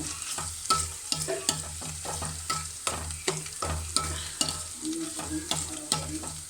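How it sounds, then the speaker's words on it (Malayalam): Spices and small shallots being stirred in a frying pan, a spoon scraping in steady repeated strokes over a constant close sizzle, with no talking. "നല്ലോണം ഇളക്കി കൊടുക്കാം."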